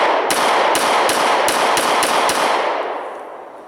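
Seven sharp pistol shots from an S&W M&P 9 Shield, fired at a target at a steady, controlled tempo, loud and close, each crack ringing into the next before a fading tail.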